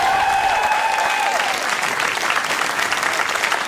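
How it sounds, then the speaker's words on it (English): Sustained applause from a stand-up comedy audience, a dense wash of clapping from a crowd that holds steady throughout. "One more time for Jeremiah and Bob. Make it loud"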